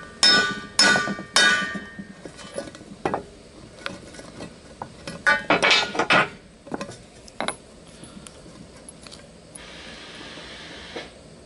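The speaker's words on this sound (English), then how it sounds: "As you can see, the bearings pushing out." A U-joint bearing being driven out of a truck driveshaft in a backyard, heard as a close run of sharp metallic hammer strikes and clinks, clustered at first and then sparser, with no talking.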